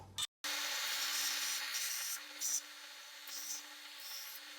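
A small wooden keychain piece gets its final shaping, a steady rasping, rubbing abrasion that runs continuously after a brief gap, swelling slightly in a few spots, close and fairly quiet.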